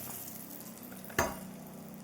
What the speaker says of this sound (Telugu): పోపులు ఇదిగోండి అలా వెళ్ళి ఇలా అందులో వేయాలన్నమాట.